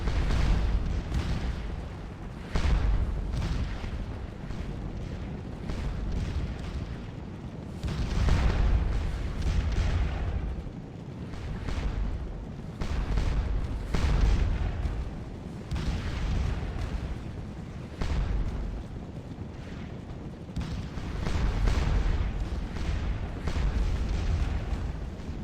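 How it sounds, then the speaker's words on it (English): Artillery batteries keep up a continuous bombardment in the Napoleonic Waterloo strategy game Scourge of War, with overlapping loud booms and rumbling blasts layered densely throughout, no talking. "And begin moving batteries, just to add some artillery. Start bombing away on everything out here."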